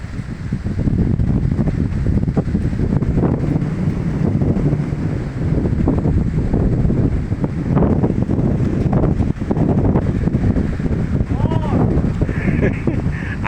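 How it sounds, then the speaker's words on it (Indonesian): Strong wind gusting outdoors around houses, a loud continuous rumbling buffet that swells and eases, with a person talking in the foreground. "Nah, anginnya sangat kencang sekali."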